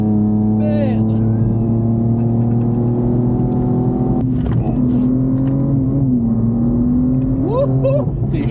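Race car engine at high speed on a closed circuit, loud and steady with a high whine that rises sharply near the end, while a voice speaks over it.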